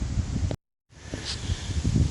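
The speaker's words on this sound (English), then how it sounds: "It's awfully windy today." Wind gusts buffet an outdoor microphone with low rumbling noise, broken by a brief dropout, during a snowmobile paint job.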